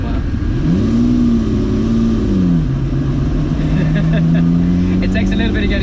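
A Ferrari 250 SWB Revival with a 3.5-litre engine and five-speed gearbox drones steadily from inside the car, its pitch rising and falling with throttle and gear changes across the whole stretch.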